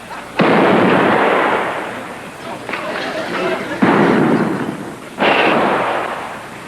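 Gunfire from a 1959 movie, with several loud, sustained bursts of shooting separated by short gaps, layered over background clamor.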